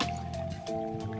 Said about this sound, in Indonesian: sekarang lagi hujan.